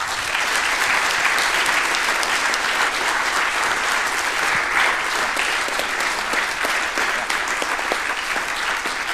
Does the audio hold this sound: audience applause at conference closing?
yes